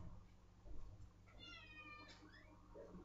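A house cat lets out a short meow in the middle of the clip, with a rising cry near the end, faint and off to one side over a low steady indoor hum.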